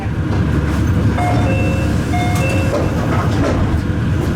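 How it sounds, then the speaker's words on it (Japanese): A Meitetsu Mikawa Line train, a turnback service bound for Sanage, rolls into platform 2 at Chiryu Station with a loud, continuous rumble and brief high metallic squeals over the running noise. "一番奥の2番線に、当駅折り返しのさなげ行きが到着です。"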